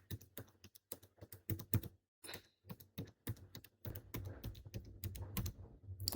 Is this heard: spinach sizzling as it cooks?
no